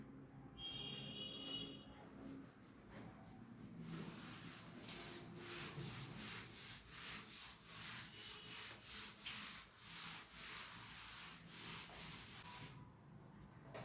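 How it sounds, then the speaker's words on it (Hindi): Writing is rubbed out on a classroom board during a maths lecture, a faint run of rhythmic back-and-forth scrubbing strokes growing steadier toward the middle, with no talk. "इस पार्ट को रब करते हैं।"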